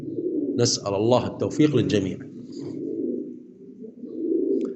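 Pigeons kept in a skylight coo softly in low, throaty murmurs that continue throughout, with a voice talking over the first couple of seconds.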